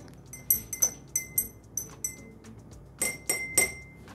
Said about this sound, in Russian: И традиционный граненый стакан чая с тремя чаинками.